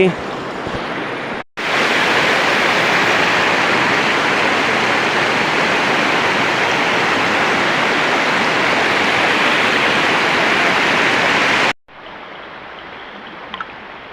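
Loud, steady rush of river water filling the scene for about ten seconds, abruptly starting and stopping, with quieter background before and after.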